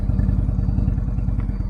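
An Indian Chief motorcycle engine rumbles loud and steady with a fast low pulsing beat while riding onto a gravel driveway, light clatter over it.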